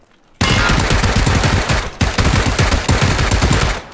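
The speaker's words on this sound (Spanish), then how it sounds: "Uy, Miguel, te disparo." Sustained rapid gunfire in PlayerUnknown's Battlegrounds bursts after a brief quiet start, loud and close, with a short pause near the middle before the shooting continues.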